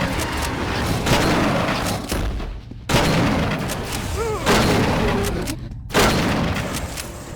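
Loud, heavy shotgun blasts boom repeatedly in a video game called Civvie, several shots spaced roughly a second apart, each with a sharp crack and rolling tail amid game noise and a voice.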